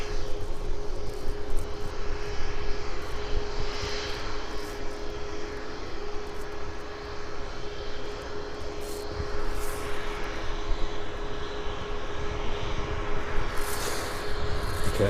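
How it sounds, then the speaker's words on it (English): A Ryanair jet airliner throttling up at an airport, a steady broad engine roar heard from a distance, holding level throughout with no speech. "The Ryanair then throttling up."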